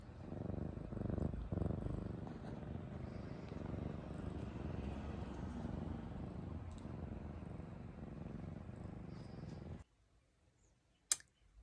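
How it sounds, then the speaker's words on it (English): Close, steady purring from a cat lying on a person's hand at a keyboard, continuous for about ten seconds before falling quiet, then a single sharp click. "I can't work very well when there's a cat laying on my hand when I'm trying to type."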